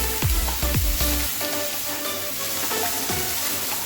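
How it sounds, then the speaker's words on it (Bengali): Shrimp fry in a pan with browned onions, giving a continuous close hiss of sizzling and a few stirring scrapes early on, then a steady sizzle. "চিংড়ি মাছটা দিয়ে একটু ভাজবো।"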